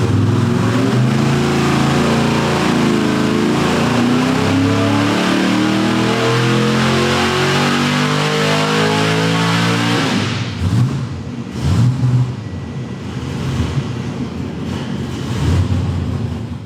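A boosted, mostly stock Ford 302 V8 revs hard and loud with a rising, sustained roar for about ten seconds, then drops to a rougher idle with a few short blips.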